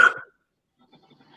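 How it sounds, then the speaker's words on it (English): A single short, close cough bursts out at the start, then fades to near silence with only faint, scattered low rustling afterward. "you're coughing, that's it"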